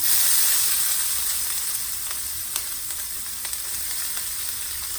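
Curry leaves and half an onion sizzle in hot oil, a steady bright frying hiss that starts loud and eases slightly, with a few faint crackles and pops and no talking.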